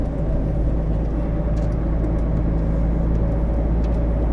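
A DAF 510 truck drives along, heard from inside the cab: a steady, loud low engine and road rumble with constant whirring and no pauses.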